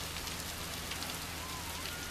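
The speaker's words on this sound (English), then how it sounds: "It is raining like crazy where I'm at." Heavy rain falls outside a hotel, a steady, soft hiss of drops on surfaces that continues evenly throughout, fairly faint and without voices.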